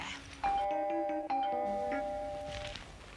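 A doorbell chimes twice in quick succession, bright ringing tones that linger and fade, heard clearly indoors.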